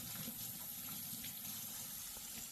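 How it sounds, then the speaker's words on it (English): Water from a tap runs steadily over juicer wiper blades being rinsed, a faint continuous splashing hiss with no pauses. "We've got the wiper blades, they always just need rinsing."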